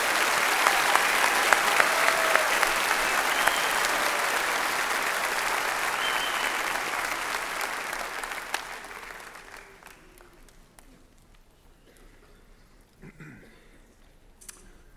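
Sustained applause for graduating seniors at a high school commencement ceremony, a dense crowd clapping loudly for about eight seconds before fading into scattered claps and quiet room noise.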